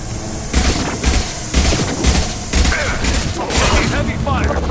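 Heavy gunfire in the video game Mass Effect Legendary Edition: a loud, dense run of blasts and cracks, with repeated heavy bursts over a continuous noisy battle din. Voices are heard in the mix.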